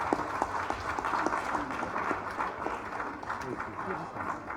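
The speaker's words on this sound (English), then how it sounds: "Please, a round of applause for this young lady." Applause from the audience at an annual general meeting, a steady wash of clapping heard at moderate distance with a voice or two speaking over it.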